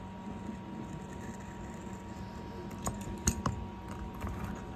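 A knife slicing through EPDM rubber roofing membrane between its channels, heard as a few close, sharp cutting clicks and scrapes clustered near the end over a low steady background.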